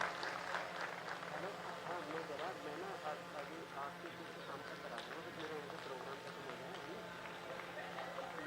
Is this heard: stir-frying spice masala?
no